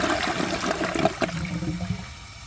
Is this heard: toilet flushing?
yes